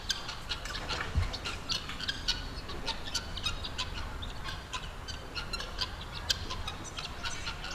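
Guinea fowl, also called helmeted guineafowl, calling around a residential condominium in Feira: a steady stream of sharp, repeated clucking and chattering calls from a flock at moderate distance over constant outdoor background noise.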